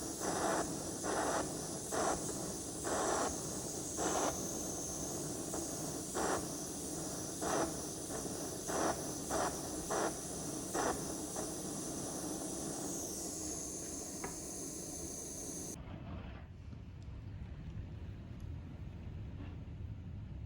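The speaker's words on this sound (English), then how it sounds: "The wind is just blowing a gale." Strong gale-force wind roars steadily with rough gusting surges for most of the clip, then drops to a quieter, muffled rumble near the end.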